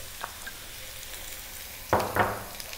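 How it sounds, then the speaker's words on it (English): Onion dropped into a hot pot for a one-pot sausage and beans breakfast, giving two short bursts of close sizzling and frying after a quiet stretch of low kitchen hiss. "We're now going to drop in 1 cup of onion"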